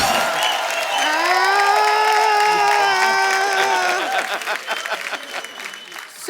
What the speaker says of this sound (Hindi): ताली बजाओ, क्या बात है।